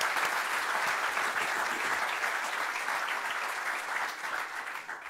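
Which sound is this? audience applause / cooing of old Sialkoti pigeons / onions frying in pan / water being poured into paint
audience applause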